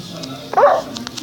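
A dog indoors gives a single short, sharp bark or yelp amid quiet household background, close and brief.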